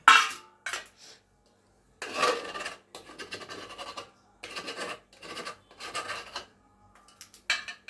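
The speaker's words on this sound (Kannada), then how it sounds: "ಪಾತ್ರೆಯಲ್ಲಿ ಇರೋದನ್ನೆಲ್ಲ ನೀಟಾಗಿ ಎತ್ಕೊಬಿಡೋಣ" A spoon scrapes and rubs cooked sajje (pearl millet) mudde dough from the inside of a cooking pot, in several short rasping bursts separated by pauses, close and fairly quiet with no talking.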